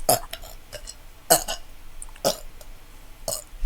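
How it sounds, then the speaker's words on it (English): Someone burps deliberately several times in a row, short loud bursts spaced about a second apart, with faint talk between them. "I can also make myself burp."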